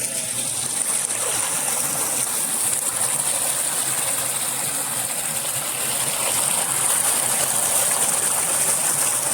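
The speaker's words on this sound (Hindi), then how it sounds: "पानी की कल कल की आवाज़ आ रही है" A stream flows beside Kelkund temple near Ranthambore in Sawai Madhopur, giving an even, continuous hiss of rushing water that stays steady throughout with no talk.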